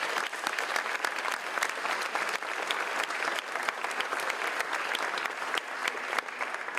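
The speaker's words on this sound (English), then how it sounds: "So I think a round of applause to this school for its centennial." An indoor audience claps loudly and steadily at a university engineering school's centennial announcement, dense applause from many hands that carries on without a break.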